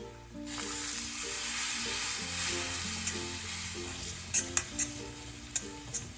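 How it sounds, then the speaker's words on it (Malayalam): Chili powder fries in a pan for a Granny Smith apple pickle as vinegar goes in, giving a soft, steady sizzle under quiet background music, with several sharp clicks and scrapes near the end. "മുളക് പൊടി കരിഞ്ഞ് പോകാതിരിക്കാൻ വേണ്ടി നമ്മൾ സ്വല്പം വിനാഗിരി ഒഴിച്ച് കൊടുക്കുന്നുണ്ട്"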